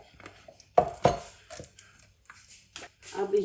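A knife cuts fruit for a detox drink on a board, giving a few sharp separate chopping knocks with softer handling noises and quiet gaps between them.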